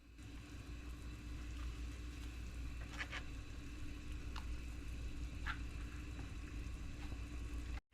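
Gnocchi cooking in a pot of water brought back to a boil: a constant low bubbling rumble with faint sizzle and a few light utensil clinks, no voices, cutting off abruptly at the end.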